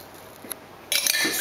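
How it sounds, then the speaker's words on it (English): A spoonful of black bean sauce goes into a vegetable stir-fry pan: a couple of light metallic clinks, then a sudden, bright sizzle that keeps crackling loudly. "black bean sauce. Put a spoonful in there."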